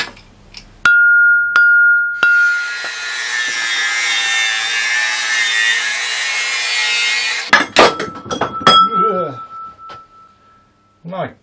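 A wind chime cut from a thick aluminium fire extinguisher body is struck several times, each hit leaving a bright, sustained metallic ring, with sawing noise in between and nearby talk afterward.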